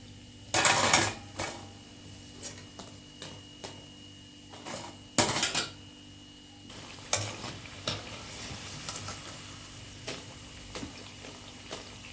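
Amaranth leaf and moong dal fritters fry in oil, a soft steady bubbling hiss broken by a few sharp clatters and crackling bursts, close by and with no voices.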